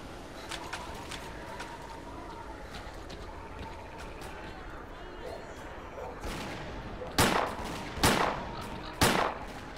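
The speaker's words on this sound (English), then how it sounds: "What are they shooting at?" Distant gunfire from allies and enemies in the S.T.A.L.K.E.R.: Clear Sky video game, with faint crackling shots under ambient noise followed by three louder, sharper bursts near the end.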